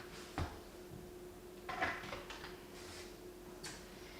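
An Aeroccino milk frother's lid is set onto the jug: one sharp close click near the start, then a couple of softer clinks, all quiet and near against a faint room hum, with no talking.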